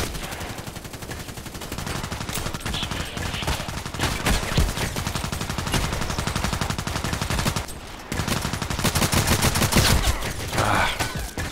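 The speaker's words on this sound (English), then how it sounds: "Really heavy shooting here." Heavy, sustained gunfire in the shooter game Contract Wars, dense rapid bursts of automatic fire with only a brief pause, loud and close throughout.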